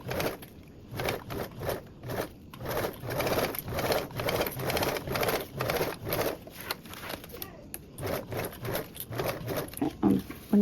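Domestic sewing machine basting around the edge of a fabric duffle bag with a narrow seam allowance, stitching in a fast, even rhythmic patter of needle strokes, close up and continuous with brief pauses, no voices.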